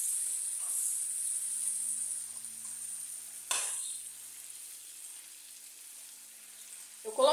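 Crumbled requeijão curd sizzling and hissing steadily in a shallow frying pan, with a brief scraping stir midway and another at the end; no voices.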